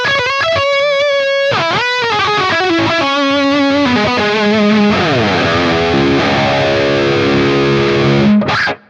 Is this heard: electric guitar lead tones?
yes